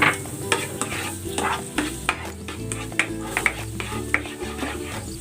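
Garlic sautés in butter in a pan, a loud close sizzle with frequent rhythmic stirring scrapes and utensil clacks against the pan, no voices.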